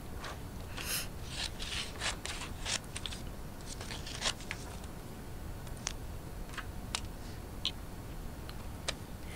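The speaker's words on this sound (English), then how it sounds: "here I'm just cutting out the address" Scissors snipping out a paper address label for a parcel, a series of quiet, irregular cuts and rasping rubs close by, with no talking.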